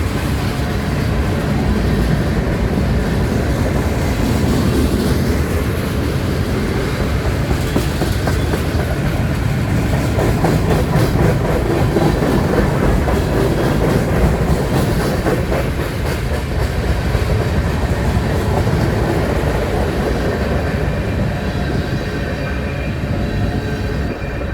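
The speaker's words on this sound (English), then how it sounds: "That's the BNSF train right there. Ooh, it's a mixed freight train." A BNSF mixed freight train rolls past close by, a steady, loud rumble with rhythmic clickety-clack of wheels over rail joints and faint squeal, continuous throughout.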